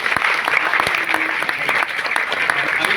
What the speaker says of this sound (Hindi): एक बार ताली बजा अपना लिए